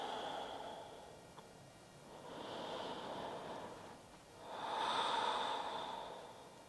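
Slow, deep breaths during a gentle yoga pose, each long inhale and exhale swelling and fading as soft airy rushes, close and quiet with no talking.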